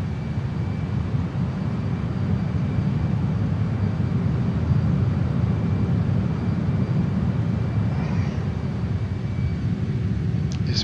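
A JAS-39 Gripen jet in Microsoft Flight Simulator flies a fast landing approach at about 240 knots over the Caribbean, its engine a continuous, steady roar with no talking.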